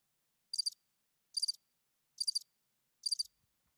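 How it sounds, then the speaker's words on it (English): Crickets chirping in four evenly spaced short trilled bursts, each with a few rapid pulses, faint and isolated against near silence. "That's not the same crickets."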